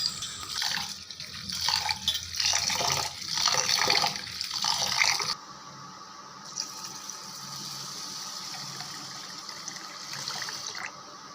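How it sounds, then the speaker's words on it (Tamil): Raw rice being washed in water for Kerala kalathappam, with several seconds of close, busy sloshing and swishing of grains in a vessel, then a quieter, steadier trickle of water. "எடுத்துகிட்டு 4 தடவை தண்ணி வச்சு நல்லா வாஷ் பண்ணிக்கிறேன்."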